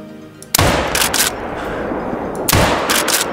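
Two loud, close rifle shots from the MORADI lever-action in the hunting game Call of the Wild crack out about two seconds apart, each a sharp blast trailing into a long rolling echo.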